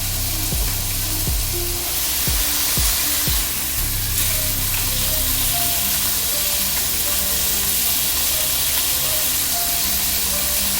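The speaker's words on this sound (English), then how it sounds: "It's just finishing that sear on both sides and making sure that it's done." A sirloin steak sears in a hot pan, a steady dense sizzle running throughout with a few sharp low thumps near the start, loud and close with no talking.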